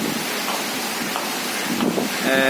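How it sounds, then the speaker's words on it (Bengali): Strong wind gusts and rain from Cyclone Remal sweep over Dhaka, a dense, steady roar of blowing air and falling water that holds loud and constant throughout, with no voices. "প্রচুর বাতাস সাথে বৃষ্টি হচ্ছে"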